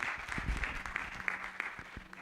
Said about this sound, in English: I request everybody to give him a warm round of applause